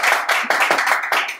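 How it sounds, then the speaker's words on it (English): Dense applause from a comedy club crowd at an immigrant comedy showcase, loud and steady for about a second and a half with no voices over it. "round of applause for my mate, Dave Lynch."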